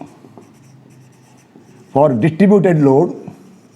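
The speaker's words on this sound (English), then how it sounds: "I'll write once again now" Marker writing on a board during an engineering lecture produces faint, steady scratching at first, then someone speaks loudly over it.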